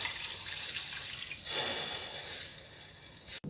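Water pours into a pan of toasted quinoa and butter, a soft, fairly quiet splashing rush with a brief click near the end.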